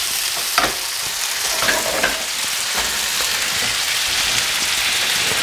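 Cashews frying and being stirred in a hot pan make a dense, close crackling sizzle, with light scraping and clacks from the stirring. No one speaks.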